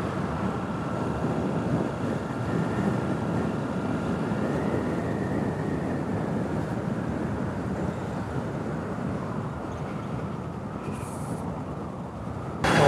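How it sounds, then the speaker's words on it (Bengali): Strong wind sweeps through Chandrima Udyan park in Dhaka, making a constant roaring rush that buffets the microphone. It stays steady and fairly loud throughout, with nothing else heard. "ওরে বাতাস"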